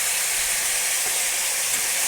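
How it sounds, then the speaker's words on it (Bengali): Chicken pieces lightly frying in a pan, giving a steady, even sizzle with soft hiss throughout, close and moderately loud with no talking. "চিকেনটা হালকা ভেজে নিলে কি হয়"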